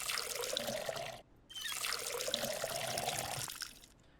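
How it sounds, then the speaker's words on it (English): Water poured over soil in a grow tent in the video game Schedule One, a steady splashing trickle in two pours separated by a short pause, close and fairly loud with no talk. "And we'll pour the water all over it."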